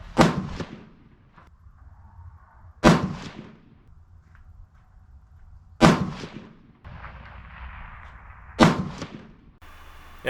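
Four sharp, loud 6.5 PRC rifle shots loaded with Reloader 25 powder, fired from a Seekins Precision Havak about three seconds apart, each a close crack trailing off into echo, with quiet between shots.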